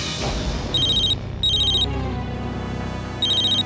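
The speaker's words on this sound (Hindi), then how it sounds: "कशिश को थैंक यू कहने के लिए फोन किया होगा।" A telephone rings in three short electronic trilling bursts over a dramatic music bed in a Hindi TV drama, with no talking.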